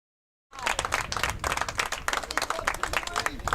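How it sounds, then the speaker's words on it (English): Crowd at a high school baseball game between the Hun School Raiders and Steinert Spartans clapping and cheering after a brief silence, a dense, steady spread of hand claps continuing for several seconds. "A round of applause for Aiden Chulamanis as he is going to be okay and stay in this game"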